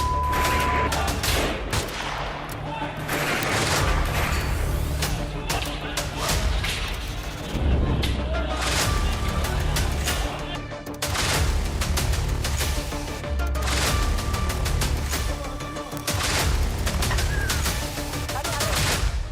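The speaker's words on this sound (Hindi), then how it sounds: "लाठी से मारा, बंदूक के बट से मारा और फिर अंधाधुंध गोली चला दी" Indiscriminate gunfire in news footage from Balochistan: loud, rapid bursts of shots and crackling volleys that repeat in waves, with brief lulls and faint voices between them.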